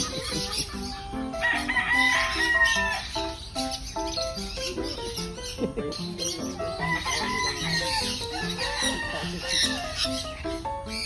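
Roosters crow and fowl cluck close by at a family-run animal farm in Imus that welcomes visitors, a dense, overlapping chorus of calls that runs throughout, with chirps and a little background talk mixed in.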